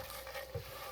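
Dried shrimp being stir-fried and tossed in garlic oil in a pan, a steady soft sizzle with a brief louder stir or scrape near the middle, close and without talk.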